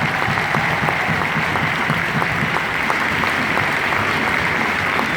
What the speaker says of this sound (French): Sur vos applaudissements, mesdames et messieurs